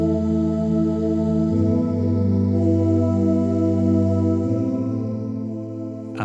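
Sampled sounds auditioned on a Roland W-30 sampler: a steady, sustained harmonic synth pad with layered chord tones shifting at about 1.5 and 4.5 seconds, ending in a brief sharp hit; no talking.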